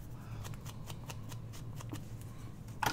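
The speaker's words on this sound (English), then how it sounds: "I'm just going ahead and rounding off these little pointy corners here. Just cut them a little bit at an angle." Scissors trimming the corners of a vellum belly band, a series of quick close snips in a steady rhythm, ending in a louder rustle of the handled vellum sheet.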